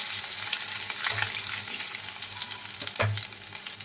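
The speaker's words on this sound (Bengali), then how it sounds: "দিয়ে দিচ্ছি কুচনো রসুন, একটু রসুনটা ফ্রাই করে নেব।" Chopped garlic fries in hot oil with cumin tempering and dried chilies, a steady close sizzle broken by a few spoon scrapes and stirs.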